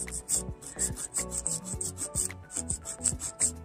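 A nail file rasping across artificial nail tips while shaping them, in quick repeated back-and-forth strokes, about three per second, with sharp high scratches on each pass, close and clear, with no talk.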